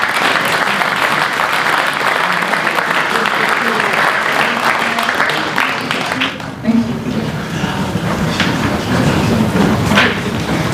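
An audience at a national brevet diploma ceremony applauds in a loud, sustained wave of clapping with a few thumps, continuing steadily for the whole stretch.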